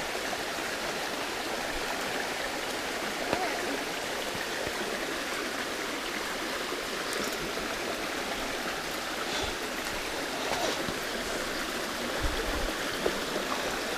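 A creek crossing a mountain bike trail in DuPont State Forest, North Carolina, rushes in a steady, close, unbroken wash of flowing water with no voices.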